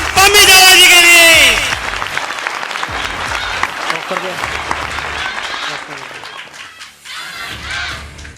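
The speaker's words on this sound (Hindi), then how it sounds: "जोरदार तालियां हमारे हरमिंदर सिंह जावा जी के लिए, पम्मी जावा जी के लिए" Audience at a community gathering breaks into loud applause for honored guests, a dense sustained clapping roar that follows a speaker's amplified voice and gradually thins out, with voices continuing over the tail.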